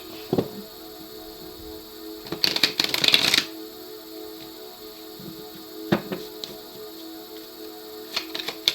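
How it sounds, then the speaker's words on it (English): A deck of tarot cards is shuffled in a few short, crisp bursts of riffling, loudest in one brief flurry, over a steady low room hum with no talking. "One last shuffle."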